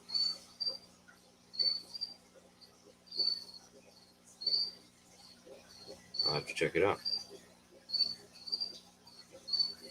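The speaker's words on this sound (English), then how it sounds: "I love the sound of crickets" Crickets from a freshly delivered batch chirp steadily in repeated bright pulses throughout, with a person speaking briefly and a short rustling burst midway.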